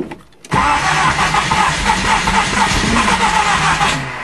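After a brief quiet start, a car engine cranks and churns loudly and continuously, a rough mechanical rumble that never quite catches.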